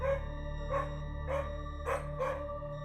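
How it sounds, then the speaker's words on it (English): A dog barks five times in an evenly spaced sequence, moderately close but not loud, over a steady background hum inside a house at night. "Kaylee's dog, Murphy, begins to bark."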